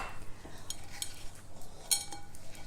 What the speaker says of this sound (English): by using a spatula, it just automatically cleans everything off the side